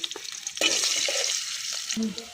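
Bay leaves and sliced onion hit hot oil in a pot that was just used for cooking fish, giving a bright, close sizzle with stirring scrapes and clinks.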